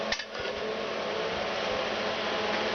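Cooling fans switched on to cool and set heated PET plastic strips while making a broom, a brief clunk then a steady, fairly loud whooshing airflow hum that holds evenly to the end.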